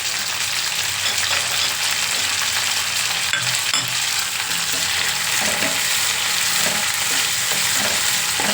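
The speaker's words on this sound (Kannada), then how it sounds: "ನೋಡಿ ಈಗ ಈರುಳ್ಳಿ ಹಾಕಿದ್ದೀನಿ" Onion fries in hot oil in a pan, giving a dense, continuous, close sizzle with stirring and scraping mixed through, and no one speaking.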